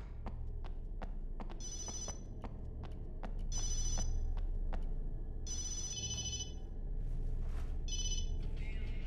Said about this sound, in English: That must be Ashley calling me. I should have turned off my cell